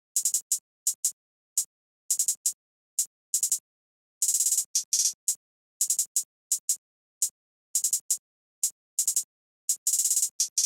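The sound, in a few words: hi-hat pattern in a trap beat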